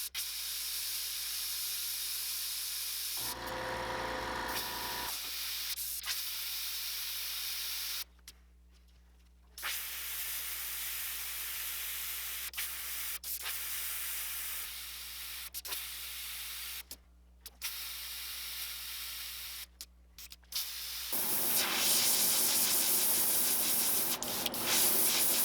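Spray paint hisses in sustained bursts of several seconds with short gaps while layers go onto a jointed belly jerkbait fishing lure styled as a small wounded bass, close and steady, with no talking.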